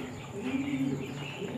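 Pigeon cooing softly from a small home mini zoo enclosure, a couple of low, rolling coos at fairly faint, close range.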